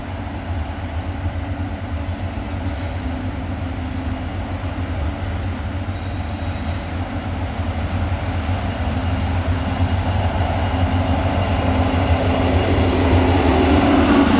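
A freight train of loaded covered hoppers led by an SD70 locomotive rolls past close by, with a loud, continuous rumble of wagons and wheel noise that builds slightly toward the end, with no talking.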